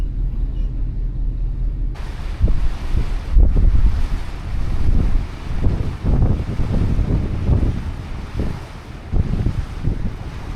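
Strong wind buffets a boat on the water in the Sundarbans, a loud continuous roar with gusting swells and waves washing, rising abruptly after a quieter start and carrying on steadily without talk.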